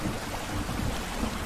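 Steady, uniform hiss of continuous rain falling, even and unbroken across the whole short stretch, with no voices.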